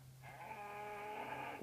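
A single Minecraft cow moos once, a steady tonal low call lasting over a second, fairly faint and heard alone.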